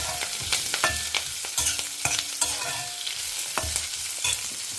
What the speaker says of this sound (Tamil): கருவேப்பிலை போட்டுக்கிறேன்.